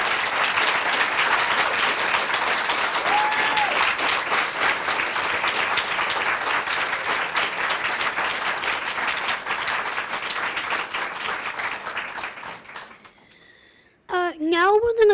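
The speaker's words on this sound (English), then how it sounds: "I think our panelists deserve a huge round of applause" Sustained applause from an audience at a panel discussion, loud and steady for about thirteen seconds before fading out, followed by brief faint talk and a moment of feedback-like noise at the end.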